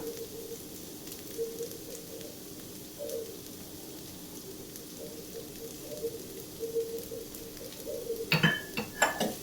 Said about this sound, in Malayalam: ഇനി നല്ലതുപോലെ ഇളക്കി മിക്സ് ചെയ്തെടുക്കാം